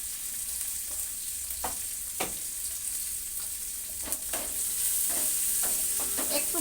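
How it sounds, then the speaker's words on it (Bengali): Nigella seeds, chopped ginger and green chilli fry in mustard oil, a quiet, steady sizzle broken by repeated scraping stirs of a spatula against the pan. "কালো জিরের মধ্যে দিয়ে দিচ্ছি আদা কুচি, কাঁচা লঙ্কা কুচি"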